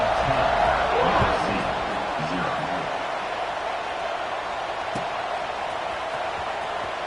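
A stadium crowd in a football video game roars as a broad, steady wash of noise throughout, with a commentator talking briefly over it near the start.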